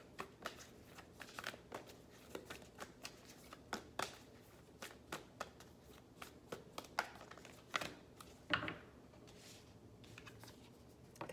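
A Moonology oracle card deck is shuffled by hand, a run of soft, close riffling and flicking bursts in an irregular rhythm, with a few sharper card snaps.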